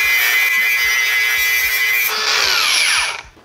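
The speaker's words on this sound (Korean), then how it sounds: "연마 작업부터 해보겠습니다." A cordless angle grinder runs at speed setting three while sanding, giving a loud, steady high whine that shifts in tone partway through, then spins down and fades at the end.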